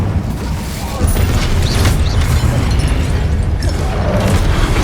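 An Incendio fire spell is cast in Hogwarts Legacy on PS5, a loud booming burst of flame that roars over dense, continuous game noise, with a voice speaking at the same time.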